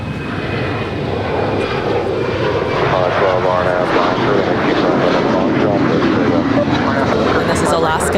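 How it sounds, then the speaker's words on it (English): Alaska Airlines Boeing 737-900ER at LAX, engines roaring steadily and loudly throughout as the jet departs, with a person talking over the aircraft noise. "And this is Alaska Airlines Flight 817 off to Honolulu on the island of Oahu. 737-900ER."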